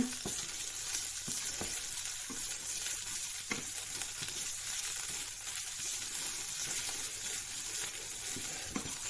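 Fish stir-fries in a pan for a sweet, sour and spicy dish, giving a steady close sizzle and frying hiss with scattered clinks and scrapes of stirring throughout, no talking.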